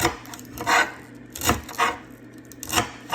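A knife chops green cabbage leaves on a board for homemade sauerkraut, about five crisp, evenly spaced cuts close by, each a short crunchy thud with no talk over them.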